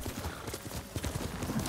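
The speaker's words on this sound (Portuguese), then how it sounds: "Minha égua favorita." Horse hooves clip-clopping at a steady trot in the video game Ghost of Tsushima, a run of soft, fairly quiet thuds in a close, even rhythm heard on their own with no talking.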